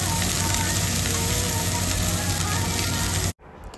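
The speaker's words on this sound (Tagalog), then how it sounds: "Ngayon, nag-usok-usok na, guys, yung aking ginigisang sibuyas at saka ahos." Chopped onion and garlic sautéing in a hot pan for ginisang monggo, giving a loud, steady, close sizzle that cuts off abruptly near the end.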